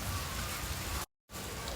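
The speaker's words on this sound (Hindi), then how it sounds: "भगवान ने कर दी है खूब सारी बारिश।" Heavy monsoon rain falling in Gurgaon, a dense steady hiss of drops hitting surfaces, loud and continuous, broken by a brief silent gap midway.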